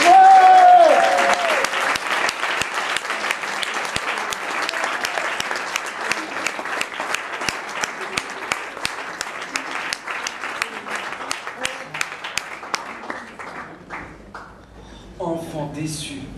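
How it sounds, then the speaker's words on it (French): An audience at a slam poetry night at Théâtre Gérard Philipe in 2009 gives a loud, sustained burst of applause that carries on for about fourteen seconds before thinning out, and a voice follows at the end. "Je voudrais que vous l'applaudissiez très fort,"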